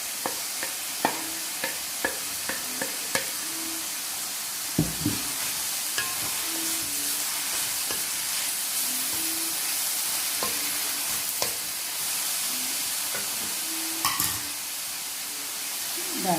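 Onions are tipped into a pan of cooked comb mushrooms and stirred, giving a loud steady sizzle with scattered scraping clicks from the utensil throughout.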